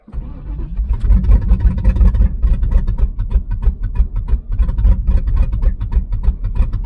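A 1996 Pontiac Trans Am engine running roughly and refusing to rev, a loud close uneven rumble with stumbling, sputtering pulses throughout and no talking.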